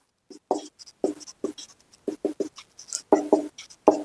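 Pen scratching across paper during a Class 10 maths lesson working an NCERT exercise, a run of short quick strokes in bursts, close and fairly clear, with no talking over it.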